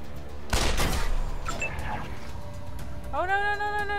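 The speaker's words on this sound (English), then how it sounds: "Let's just keep shooting at it" Robots open fire in a video game: a sharp burst of shooting bursts out loud and near, followed by scattered zaps and a rising electronic whine at the end.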